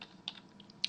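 A few separate keystrokes sound from a computer keyboard as C# code is typed, close but soft, with short gaps between clicks and a faint background hum.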